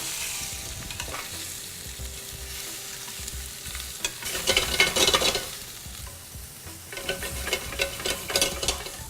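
Hot oil crackles and sizzles in a pan as shrimp fry, flaring into louder bursts of frying as the shrimp are stirred and moved around.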